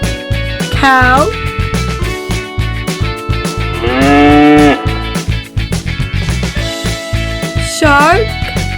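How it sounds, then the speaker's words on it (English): A cow moos three times, drawn-out lowing calls with the longest in the middle, set over continuous background music in a children's animal-names clip. "Cow."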